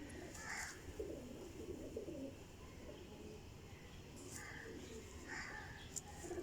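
Pigeons coo softly in a loft holding fifteen champion Pipla birds, with short bursts of calls recurring over a steady background hum.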